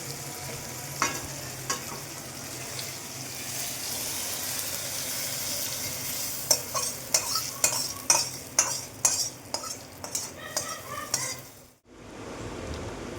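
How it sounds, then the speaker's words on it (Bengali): Turmeric and cumin masala stir-fries for khichuri, with a steady sizzle under a run of rhythmic spoon scrapes and taps against the pan that stop abruptly, leaving the sizzle to fade. "হলুদের গুঁড়ো দেবো, জিরের গুঁড়ো, ভালো করে কষিয়ে নেব"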